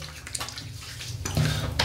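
A short splashing rush of water rinses shaving lather from a face after a pass with a Böker safety razor, close and brief, building slightly louder toward the end.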